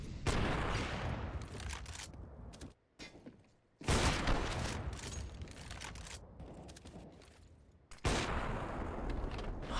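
Bursts of rapid gunfire crackle in CS:GO on the Vertigo map, dense volleys in three loud blocks separated by brief near-silent gaps, with mechanical clicks between shots.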